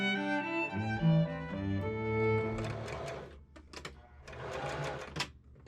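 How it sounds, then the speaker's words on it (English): Short bursts of a sewing machine running a straight stitch along velvet dress bodice seams come in the second half, after a stretch of tonal music that carries on faintly underneath. "I pin and machine sew the upper bodice seams using a straight stitch."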